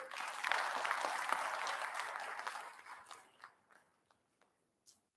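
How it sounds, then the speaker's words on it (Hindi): Audience clapping loudly at a live talk, a dense burst of applause that fades over about three seconds into a few scattered final claps, with no talk. "अभी इतनी जोर से तालियां बजाओगे?"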